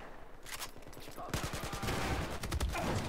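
Rapid gunfire from an M249 machine gun in the video game Battlefield 4 on the Dawnbreaker map, sparse shots first, then a dense sustained burst of rattling fire that grows louder.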